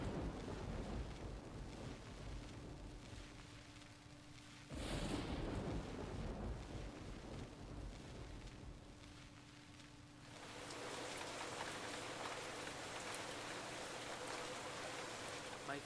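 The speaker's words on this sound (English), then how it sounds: "a terrible storm began to rage, washing away the sound of my footsteps" Thunderstorm with steady heavy rain in a Nancy Drew mystery game, a loud thunder crack breaking in partway through and the downpour swelling louder near the end, with no voices.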